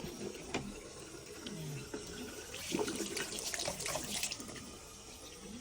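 Tap water running into a hospital sink while hands are washed, a soft steady splash with faint rattles and clinks, fairly quiet and without talk.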